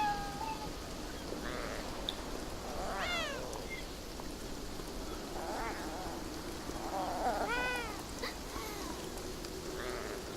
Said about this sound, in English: Who are all these cats?